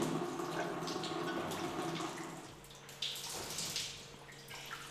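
Whey drips and trickles steadily from draining fresh cheese curds, a soft continuous watery patter with a few brighter splashes, fairly quiet in a workshop setting.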